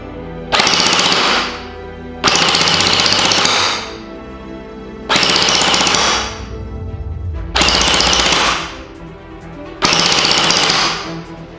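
A Wells M401 gel ball blaster fires five long full-auto bursts at about 23.5 rounds per second, each lasting a second or two and separated by short pauses, loud and close with no talking.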